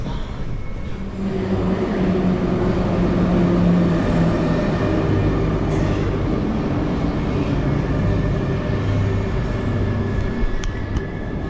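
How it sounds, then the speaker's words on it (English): Paris metro subway train rumbles loudly and continuously nearby, a steady roar of wheels and car noise with tonal hums running underneath. "the subway trains in Paris have 2 levels"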